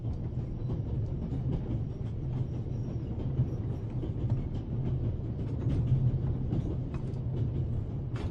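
Train riding on rails in the video game The Raven, a steady low rumble of wheels with light clicking and rattling, continuous and fairly loud throughout.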